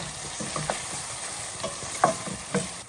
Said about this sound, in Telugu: అల్లం వెల్లుల్లిపాయ పేస్ట్ పచ్చివాసన లేకుండా వేయించుకోండి